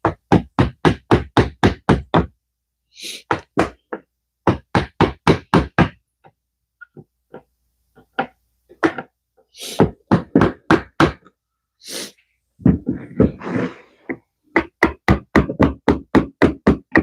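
Hammer driving a chisel into an end-grain wooden cutting board, sharp wooden knocks in rapid, evenly spaced runs separated by short pauses and scattered single taps, close and loud.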